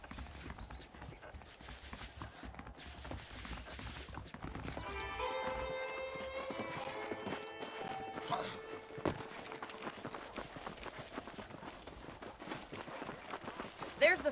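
Horse hooves clip-clopping at a steady riding gait in Red Dead Redemption, a continuous rhythmic patter throughout, with a voice talking over it and music notes partway through.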